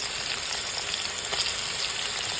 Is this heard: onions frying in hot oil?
yes